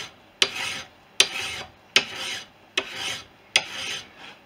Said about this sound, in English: And we can see how we're doing by doing some draw filing, which gives us the sort of final file finish.